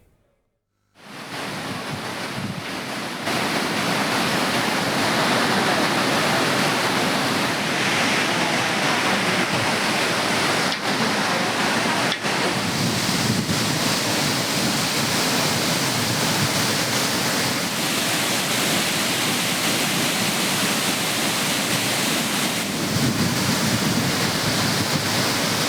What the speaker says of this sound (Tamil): மெயினருவியில் வளைவை தாண்டி தண்ணீர் ஆர்ப்பரித்து கொட்டுவதால்